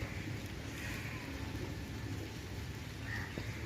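Steady rain pours down on potted plants during the monsoon, a dense continuous hiss with a low rumble underneath, close and unbroken throughout.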